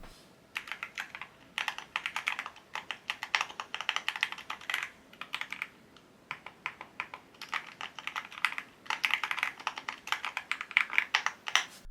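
Fast, crisp typing on an Epomaker EK21-X mechanical numeric keypad clatters in bursts with brief pauses, each keystroke a light, sharp click, close and on its own.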